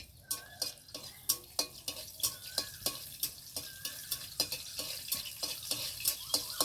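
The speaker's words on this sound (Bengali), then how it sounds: "একটু ভাজি, একটু লাল লাল রসুনগুলো হয়ে গেলে এবার শাকটা দেবো" Garlic frying in oil with dried red chillies in a village kitchen pan for greens, with a steady sizzle and regular, fairly loud scrapes and taps of a spatula stirring throughout.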